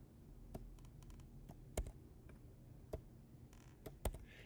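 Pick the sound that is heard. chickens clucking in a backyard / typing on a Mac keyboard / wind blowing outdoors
typing on a Mac keyboard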